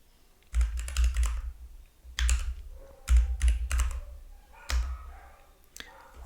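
Bursts of clicky typing on a computer keyboard while editing text in Neovim, several quick clusters of keystrokes separated by short pauses, close and clear, with faint talk in the background.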